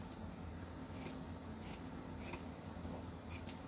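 Scissors cutting through burlap while making a wire heart wreath, heard as quiet, repeated snips and rough fabric rustle at close range, with no talk.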